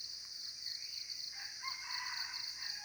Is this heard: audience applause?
no